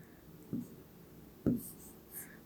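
A pen scratches on paper in a maths lesson, a few short separate strokes, close and soft against a quiet background.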